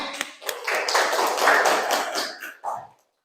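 Students in a classroom clap together, with a few scattered early claps swelling into a dense burst of applause that fades out, followed by a brief final flurry before silence.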